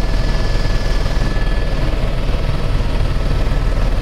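A helicopter flying over Namche near Everest, heard from inside the cabin as a loud, steady rotor throb and engine drone that runs throughout.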